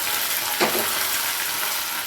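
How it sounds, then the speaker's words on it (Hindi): Mustard seeds, curry leaves and chillies sizzling in hot oil for a tadka, a loud, steady hiss with a brief burst of crackle near the start. "ये राई का तड़का लगाया है हमने"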